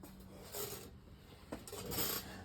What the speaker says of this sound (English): do a light sanding along there, because it's a little bit rough.